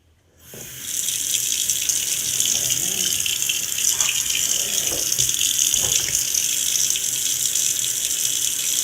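A bathroom sink faucet runs and the water drains away in a half bathroom. After a quiet start, a loud steady splashing rush fills the clip, close to the listener and with no talking.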